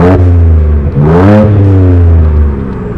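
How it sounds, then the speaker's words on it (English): A 2022 Ford Ranger Raptor twin-turbo V6 exhaust in Baja mode idles with a deep, close, loud rumble, then revs once sharply, climbing and falling back before settling again. No voices are heard. "now I'm gonna let you listen to how the exhaust sounds when it's in Baja mode"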